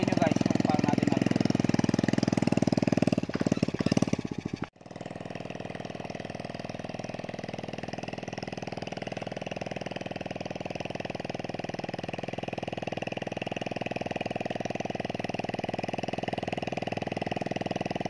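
A farm cultivator engine in an okra field drones steadily at idle, close and loud, after a brief disturbance near the start, with someone talking over it.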